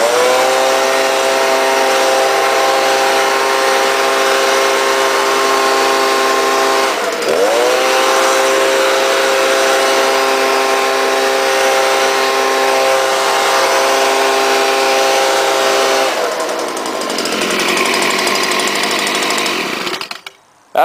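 Stihl BG 86 handheld leaf blower, its muffler spark arrestor screen just cleared of clogging, running loud and steady with a strong whine, briefly dipping in pitch twice as the throttle changes before cutting off at the end.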